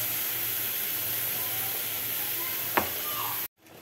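Ridge gourd and brinjal sauté in a pan, giving a steady close sizzle and hiss throughout, with one brief sharp clink near the end before the sound cuts off abruptly.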